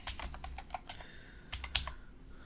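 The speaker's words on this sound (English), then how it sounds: "just type your address in here" Quick bursts of keystrokes on a computer keyboard, a steady run of taps followed by a brief pause and another short cluster, close and fairly quiet with no talking.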